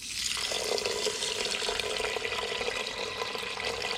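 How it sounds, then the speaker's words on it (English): Filtered water pours steadily into an Instant Pot inner pot, a continuous close splashing stream that stays even throughout, with no talking. "Now all we have to do is fill with water to the number 4 line."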